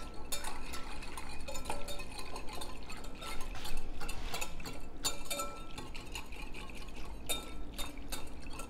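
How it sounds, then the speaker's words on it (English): A gelatin mixture for a strawberry pretzel salad is stirred to dissolve the powder. Soft liquid swishes and quick scraping taps repeat close by at low volume, with no talk. "So make sure that you stir it thoroughly"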